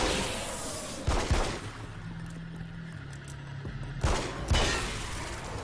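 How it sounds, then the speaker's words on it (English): Two heavy booming slow-motion video game explosions, a few seconds apart, each with a sharp crackling burst, over a low hum with no speech. "Slow motion explosions."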